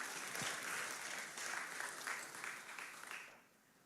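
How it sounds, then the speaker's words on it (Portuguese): Church congregation applause during a sermon, a soft, distant patter of many hands clapping steadily before quickly fading away. "agora podes aplaudir."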